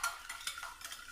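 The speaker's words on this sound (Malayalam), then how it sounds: "ഇനി നമുക്കിതൊരു വിസ്ക് വെച്ചിട്ട് നല്ല പോലെ നമുക്കിതൊന്ന് മെൽറ്റാക്കി എടുക്കണം" Bursts of whisking as a whisk beats eggs and sugar in a bowl, several quick rhythmic strokes scraping at close range, with no talking.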